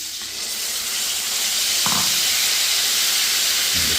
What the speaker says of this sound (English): And then we're going to add our tomatoes.